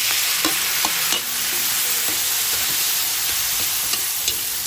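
Tomatoes sauté in a pan for a Filipino ginisang malunggay-pod dish, a continuous sizzle punctuated by sharp clicks and scrapes of a stirring utensil, close and fairly loud without talk.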